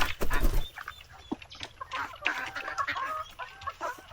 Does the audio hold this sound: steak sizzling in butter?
no